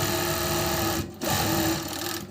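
An Altin 8515 overlock sewing machine with a belt-driven servo motor stitching steadily at close range, a loud continuous whirring hum that briefly drops out for a moment before resuming, with no talking.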